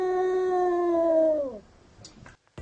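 A jealous cat yowls in one long, loud, wavering wail lasting about a second and a half, sliding downward at the end, followed by faint rustling and a brief pause.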